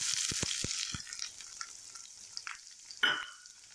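Onions frying in oil with curry leaves and fenugreek seeds for a garlic tamarind gravy, several sharp spatula knocks at the start, then a hissing sizzle with scattered crackles and a louder scrape near the end.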